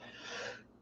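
One short, breathy sneeze from a person, close to the microphone and fairly soft, with no speech over it.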